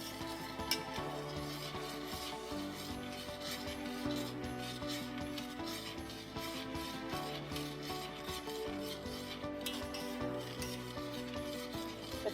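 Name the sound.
stirring a boiling chocolate cake mixture in a pot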